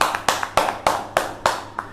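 Sharp, regular hand claps greet nominees at an online public speaking competition results event, close and loud, a handful of claps in under two seconds with no talk.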